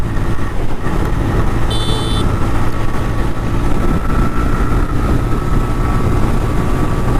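A TVS Raider motorcycle rides along in economy mode, its engine a steady, loud drone mixed with rushing wind noise, with a brief high beep or tone sounding early on.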